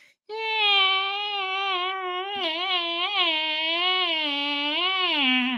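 A human voice imitates a crying baby, a sustained wavering wail with rising and falling pitch, close and clear, lasting several seconds alone.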